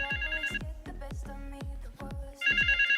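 A phone ringing inside the GTA 5 roleplay game, a bright electronic ringtone that sounds in repeated bursts and grows louder near the end, mixed with low percussive thuds and no speech.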